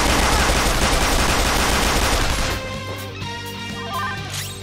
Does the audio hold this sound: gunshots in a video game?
yes